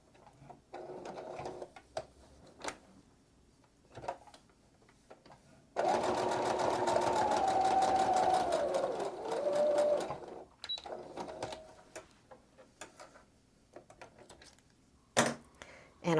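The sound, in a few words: sewing machine stitching a quilt seam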